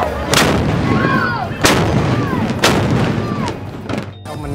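Heavy ceremonial cannon fire booms three times at roughly one-second intervals, loud and close, each blast followed by a rumbling tail.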